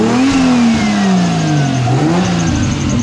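A 2JZ engine swapped into a Chrysler 300 runs steadily up close, its pitch swelling and sagging through light revs over a constant loud drone, with no one talking.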